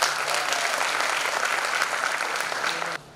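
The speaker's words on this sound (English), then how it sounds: "Again, a big round of applause to everybody." A round of applause at a graduation ceremony, with steady, dense clapping from a large audience that holds constant and then cuts off abruptly near the end.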